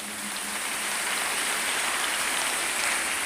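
Congregation applauding during a French-language church service, a steady dense wash of clapping that fills the space evenly from start to finish with no voices above it.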